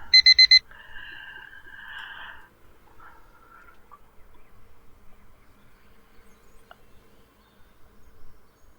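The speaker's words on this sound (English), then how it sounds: "that's the alarm saying I'm supposed to end this episode now." An alarm clock goes off with four rapid, loud electronic beeps at the start, followed by a softer buzzing drone for a couple of seconds that fades into faint room noise.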